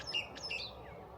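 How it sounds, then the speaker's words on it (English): Several sparrows chirp and tweet in short bright bursts, fairly close, in a quiet outdoor setting with faint background hum and no talk. "Now let's see if there's a sparrow that goes there."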